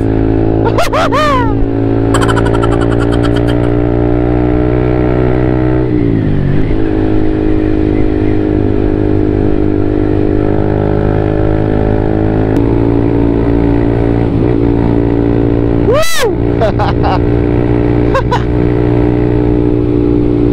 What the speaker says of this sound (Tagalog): Ang sarap i-rev.